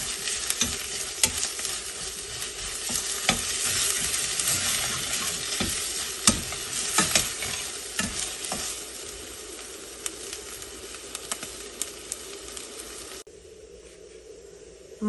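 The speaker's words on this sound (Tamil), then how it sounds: "சின்ன வெங்காயம் பெரிய வெங்காயம் எல்லாம் போட்டு நல்லா இதை வதக்கிடணும்." Small and large onions sautéing in a pan for mutton kuzhambu give a steady, close sizzle broken by scraping stirs, then drop abruptly to a quieter frying hiss near the end.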